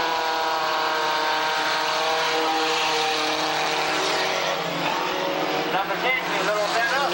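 Race cars at Tonopah Speedway, a dirt oval, roar steadily and loudly throughout as the field races past, with a crowd and announcer-like voice mixed under the constant engine din and a brief tonal shift near the end.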